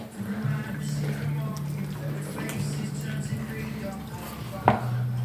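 Chocolate cake batter with coffee mixed in a bowl, a steady low motor-like hum running throughout with light scraping and a sharp click near the end.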